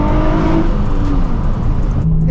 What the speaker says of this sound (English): the car just wants to hang out at around 850 or 900 RPM idling